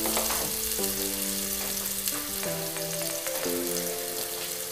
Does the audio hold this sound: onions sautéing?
yes